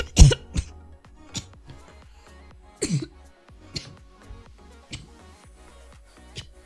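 A person coughs after smelling a spicy mango G FUEL energy drink, with several close, harsh cough bursts and throat clearing spaced irregularly across a quiet background.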